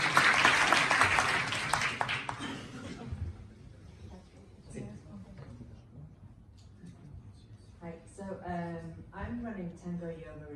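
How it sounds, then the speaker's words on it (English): An audience applauds a speaker at a Facebook and Instagram ads masterclass in Barcelona, a loud dense burst of clapping that fades after about three seconds, followed by someone talking. "let's give a very warm applause to this amazing gentleman here"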